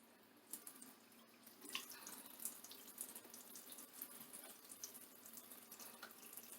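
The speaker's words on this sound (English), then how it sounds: "I'm just gonna let the water run." Tap water runs steadily into a sink, a quiet continuous splashing stream with slight surges, heard alone without talk.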